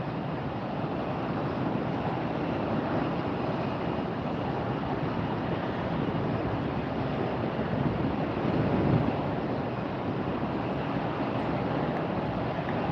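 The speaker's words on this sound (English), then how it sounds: "Fighting the wind up here, you guys. Must be probably 45-mile-an-hour gusts right now" Strong gusty wind at Tampa airport buffets the microphone in a loud, continuous roar of broadband rumble that swells and eases slightly, with no voices.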